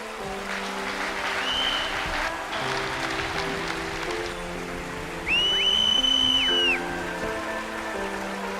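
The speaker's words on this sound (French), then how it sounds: "Je voudrais qu'on fasse un standing ovation au manager Frédéric Apia" A standing ovation for a manager at a corporate success day event at the Parc des Expositions in Abidjan: sustained, dense applause from a large crowd filling the hall, with a few whistles over sustained music.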